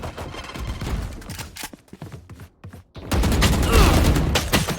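Valorant gunfire bursts in rapid fusillades, sharp close shots clustering in quick volleys, a brief lull, then a dense sustained barrage of loud firing.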